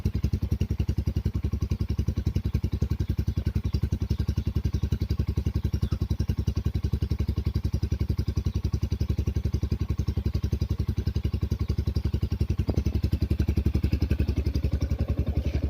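A Yamaha Sniper 150 motorcycle fitted with a power pipe exhaust idles close by with a loud, steady, rapid putter that stays even throughout, with no talking.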